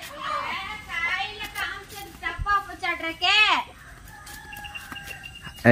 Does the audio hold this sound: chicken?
yes